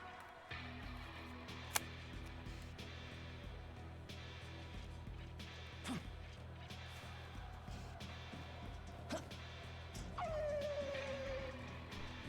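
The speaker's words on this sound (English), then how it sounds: "Sounded like a howl that was also a whimper." Odd creature cry in Shin Megami Tensei V, a howl blended with a whimper, rising once sharply near the end over a steady low game ambience, with faint clicks scattered throughout.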